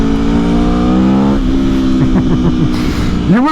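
A 2021 Aprilia Tuono V4 Factory motorcycle's engine revs loudly and close, holding a high rev before dropping and blipping through quick throttle bursts, then climbing again at the end, with no voices.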